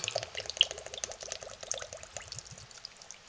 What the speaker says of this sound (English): remove your seal off of your essential oil bottle as quickly as possible ahead of time, and have it ready to just pour